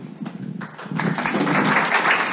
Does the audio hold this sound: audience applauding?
yes